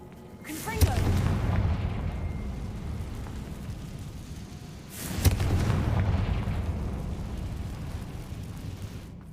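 Two booming blasts from the Confringo spell in Hogwarts Legacy, each a sharp loud burst with a long rumbling decay, spaced about four seconds apart.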